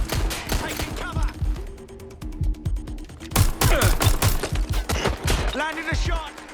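Gunfire rattles in Watch Dogs: Legion, loud close bursts of rapid shots and a fast machine-gun string alternating with heavy impacts, with voices speaking in brief gaps between volleys.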